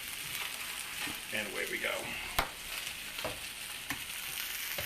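Butter and eggs sizzle and crackle steadily in a pan at close range, with a few sharp clicks and a brief stir, while someone talks over the frying.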